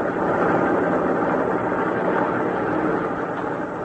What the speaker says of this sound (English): The truck drivers hear the grinding of brake, the shifting of gear, song of the wheels